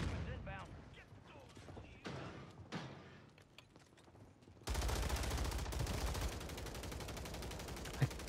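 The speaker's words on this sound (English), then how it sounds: "someone just popped shots at you" Gunfire in the video game Call of Duty on the Rebirth Island map, loud dense shots and bursts that become a sustained barrage with a sharp final crack, with game sounds and some voice underneath.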